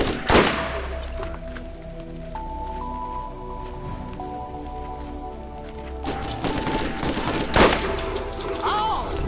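Rapid gunfire from the video game Borderlands, bursts of shots at the start and again near the end with quieter firing between, over background game music and sounds.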